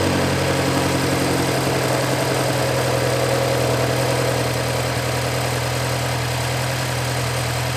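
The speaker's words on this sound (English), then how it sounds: "Let me go ahead and start the car" Mini Cooper S R56 with an N14/N18 engine runs at a steady idle after starting, a loud, close, continuous mechanical hum with an even low throb and no one speaking.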